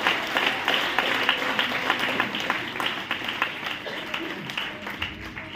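A church congregation claps in worship, dense rhythmic hand claps from many people running steadily throughout, with voices mixed in under the clapping.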